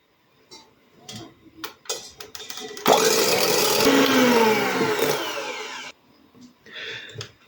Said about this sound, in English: Whisk your egg whites on a low power until they get stiff.